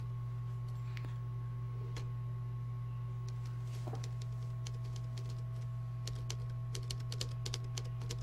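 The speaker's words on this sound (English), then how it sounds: "I like how he's still typing" Keyboard typing from a character in the video game forget me not Palette: a long run of light, irregular clicks and taps over a steady low electrical hum, with no voices.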